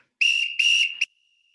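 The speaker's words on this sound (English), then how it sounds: "I do not like this whistle" A coach's whistle blown during a home workout: two long shrill blasts and a short final chirp, loud and close with no talk.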